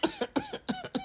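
Four short, sharp coughs in a quick, fairly even rhythm, close to the listener, with no talking around them.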